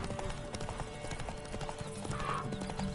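Roach the horse galloping in The Witcher 3, steady hoofbeats running continuously under game music and ambience, with a brief whinny-like tone near the end.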